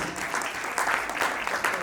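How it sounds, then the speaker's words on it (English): Audience at a nursing school alumni anniversary event clapping in a scattered, uneven patter, moderately loud and close, with a murmur of voices under it. "Can somebody please put your hands together?"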